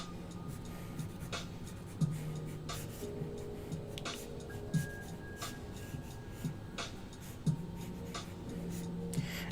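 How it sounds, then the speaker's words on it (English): Pencil sketching a car platform on paper, with continuous scratchy strokes and soft rubbing, broken by periodic tapping touches as the lead lands, close and quiet, without speech. "I'm just going to sketch a quick platform of some sort."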